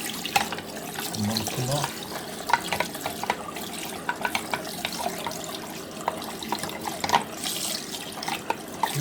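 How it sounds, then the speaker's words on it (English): Cold tap water runs steadily over a magnetic central heating filter as it is rinsed, a continuous close splashing with occasional clinks, while someone talks over it. "This is cold water I'm using."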